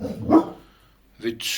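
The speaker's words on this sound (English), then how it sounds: "sorry about my dog" A dog barks once or twice nearby indoors while a person talks, followed by brief quiet and further voice.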